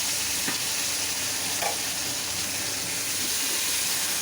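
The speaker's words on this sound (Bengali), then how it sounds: "আলুগুলো ভাজতে দিলাম।" Four pieces of potato fry in oil seasoned with five-spice and green chilli, a continuous loud sizzle and hiss with a couple of brief stirring scrapes.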